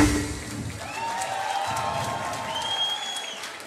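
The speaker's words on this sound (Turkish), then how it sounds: "Evet değerli misafirler, o güzel alkışlar." Wedding guests applaud at a celebration, a steady wash of clapping from the crowd, with faint tonal sounds drifting over it.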